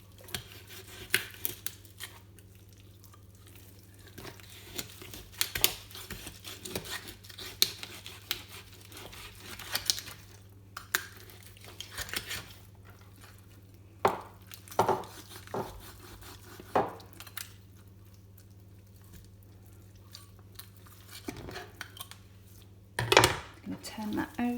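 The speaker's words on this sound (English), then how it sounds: "So now I can continue cutting along this part here." A knife works through the joints and skin of a whole raw chicken on a board, giving scattered clicks, taps and soft cuts close by over a low hum, with pauses between strokes.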